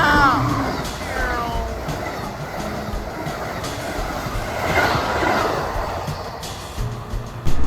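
A MARC commuter train runs from Baltimore to Washington, D.C., with rolling rail rumble and clatter and brief wheel squeals near the start, heard up close from aboard under faint voices.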